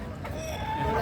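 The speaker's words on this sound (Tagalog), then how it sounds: "Tapos si Richard, ang daming malalaking inahin nun." Native hens clucking up close in a short burst, a low throaty chatter with a rising squawk near the end.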